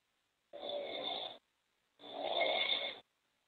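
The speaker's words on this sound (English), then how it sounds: "snoring on the phone" A man snores down a phone line, two drawn-out snoring breaths about a second each separated by a short pause, close and fairly loud with no talking.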